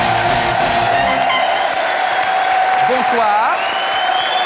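A studio audience on a French TV entertainment show applauds loudly in a dense, sustained wash of clapping with some cheering, while music plays and a voice briefly speaks over it.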